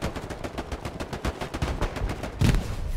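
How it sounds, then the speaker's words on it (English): Close, dense gunfire rattles in rapid bursts in the Hell Let Loose battlefield, with a heavier thump of a grenade blast near the end, continuous and loud throughout. "chucking grenades at that ping"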